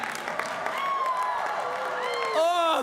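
A Harvard commencement crowd cheers and applauds, a broad swell of clapping and shouts that rises near the end, with a voice carrying over the crowd.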